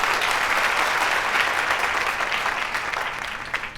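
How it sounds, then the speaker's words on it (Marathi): Steady, dense audience applause welcoming a guest named Sunny onto a Marathi show stage, holding at full strength for several seconds before easing slightly at the end. "सगळ्यात आधी टाळ्या वाजून स्वागत करूया सनीचं"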